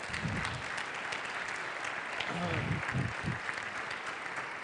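Audience applause at a talk on VoIP, steady clapping from a room of listeners with voices heard over it.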